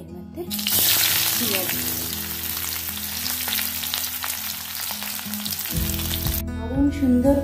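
Food frying in a pan with tempered spices, a loud dense sizzle that swells at the start and carries on steadily close by, with a few faint scrapes and a low hum underneath.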